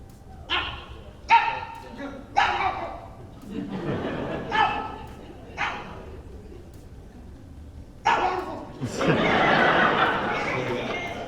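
A person vocally imitates a Chihuahua's yapping triple bark, delivering several short, sharp bursts in quick succession before a livelier stretch, with chuckling and laughter from others around the voice at a panel event.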